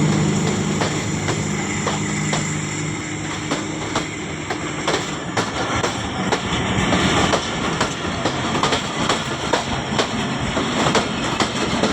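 The 47up Rehman Baba express passing through Taxila railway station, a loud continuous rumble with rhythmic clickety-clack of wheels over rail joints and some faint squealing, close by throughout.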